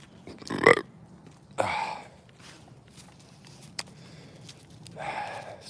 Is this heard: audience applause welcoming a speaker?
no